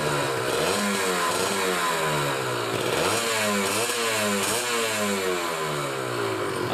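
A Kawasaki Ninja two-stroke motorcycle, warmed up after a cold start, revs repeatedly in loud rising and falling bursts with a raspy, buzzing exhaust note, close by and with no talk over it.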